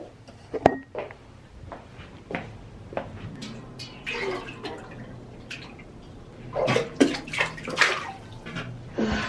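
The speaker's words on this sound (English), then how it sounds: "I just spilled so much water on myself." Water being poured and spilling, heard as a string of close splashes and sloshing bursts, intermittent at first and growing busier and louder toward the end, with no talking.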